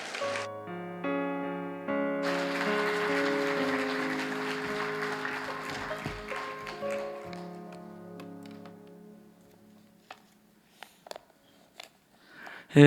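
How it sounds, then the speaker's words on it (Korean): A church congregation at Daejeon Yeongnak Church's officers' evening service applauds to welcome the pastor: steady, dense clapping over sustained keyboard chords, swelling then thinning out to a few scattered final claps. "찬양의 박수 좀 해주시기 바랍니다."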